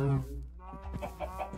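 A Minecraft chicken gives a few soft clucks, brief and close, after a short louder tonal sound at the start.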